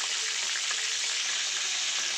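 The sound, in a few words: frying monkfish (lote fish) in oil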